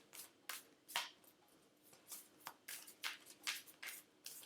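Playing cards are shuffled in a quick series of soft riffling bursts, about ten close, faint flutters in a loose rhythm with no talking.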